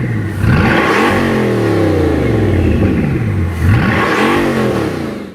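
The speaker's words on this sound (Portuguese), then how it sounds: "vamos ouvir um pouco do som que esse motor produz" A Bugatti Chiron supercar engine revs hard, its pitch sweeping up and down in loud, roaring surges with a brief dip before climbing again.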